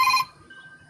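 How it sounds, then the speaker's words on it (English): A mobile phone rings in a short, loud tonal burst at the start, then cuts off, leaving faint room noise and a thin lingering tone. "that's my phone"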